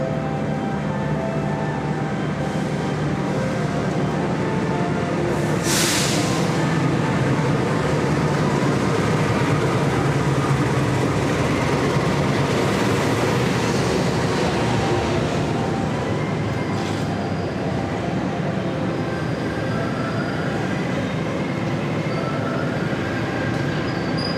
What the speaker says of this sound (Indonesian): Oke, ini adalah keretanya, kereta api Cikuray.